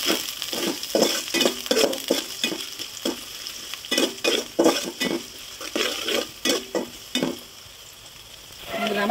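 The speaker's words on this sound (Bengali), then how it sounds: "পেঁয়াজ কুচি, রসুন কুচি আর কাঁচামরিচ ফেলে দিছি।" Chopped onion, garlic and green chilli frying in hot oil in a wok, a constant sizzle broken by rhythmic scraping strokes of a spatula stirring against the metal, close and fairly loud.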